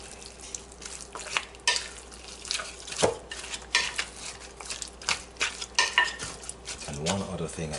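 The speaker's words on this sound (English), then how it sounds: "Stir in my onion and the garlic." Grated onion and garlic are stirred in a pan for a curried chicken with potato, a close scraping and sizzling with irregular spoon knocks against the pan throughout, no talking.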